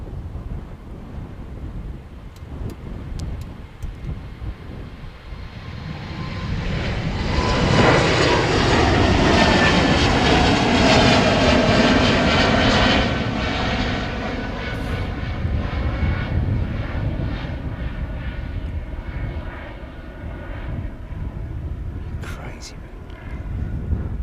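A Swiss airliner takes off at Amsterdam Schiphol, its jet engine roar swelling to a loud peak midway and then fading as it climbs away, with wind buffeting the microphone and a person talking over it.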